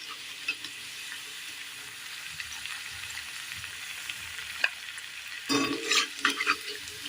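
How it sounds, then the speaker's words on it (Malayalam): Soya chilli snack pieces frying in hot oil, a steady close hiss of sizzling with a few stirring scrapes and a burst of busier crackle and clatter toward the end; no talking. "എല്ലാം ഒന്ന് വറുത്ത് പോരാം"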